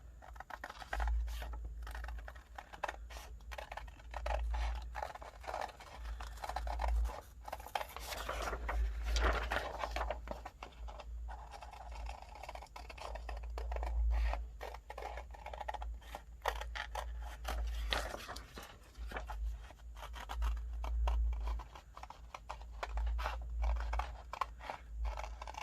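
Scissors cutting paper for an infinity journal page: quiet, close crunching snips and rustles in an irregular patter that runs throughout, with no speech.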